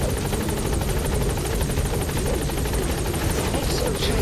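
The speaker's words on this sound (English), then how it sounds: "I'll send the chopper" A helicopter arrives in the video game Metal Gear Solid 5: The Phantom Pain, a loud steady rotor thump with a whining engine drone that fills the scene throughout.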